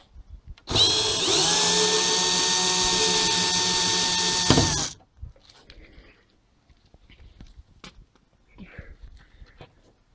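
A power drill backing out the last screw from a caravan window, one loud sustained whine of about four seconds that stops abruptly, followed by quiet handling clicks and rustles.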